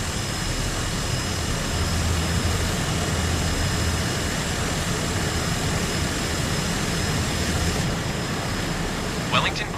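Cessna 208B Grand Caravan turboprop at Wellington airport, New Zealand, roaring loud and steady with a constant whine throughout, close and continuous, with a brief shift near the end.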